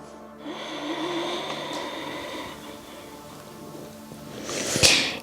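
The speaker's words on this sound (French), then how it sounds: "d'expirer bouche fermée à l'arrière de la gorge" Slow Ujjayi breathing during a yoga exercise, a long soft exhale with the mouth closed, drawn through the back of the throat as a steady airy rasp, close and quiet, ending in a brief sharper breath.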